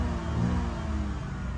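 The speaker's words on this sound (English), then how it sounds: "as you can hear the sound of it, it's giving me a little bit of rev, not too much" A 2000 Toyota Camry LE V6 engine runs with a slight rev, a steady, close, low rumbling hum that holds even throughout.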